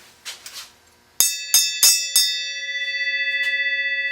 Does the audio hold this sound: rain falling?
no